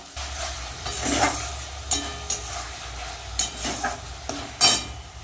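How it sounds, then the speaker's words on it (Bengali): Onion and tomato spice paste fries in a pan for katla fish curry, with a soft sizzle and several scraping stirs of a spatula spaced through the stretch, close and moderately loud. "মশলাটা ভালো করে কষিয়ে নেব"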